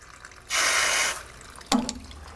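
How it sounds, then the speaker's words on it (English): Water from a hose empties out in a short rushing hiss for about a second, then a brief splash and trickle follow, close by and fairly quiet. "I've got a hose over here that's emptying water, so just ignore that noise."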